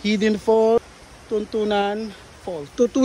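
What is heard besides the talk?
No distinct noise like a dog, phone or traffic.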